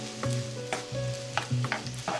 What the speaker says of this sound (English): you're basically frying the rice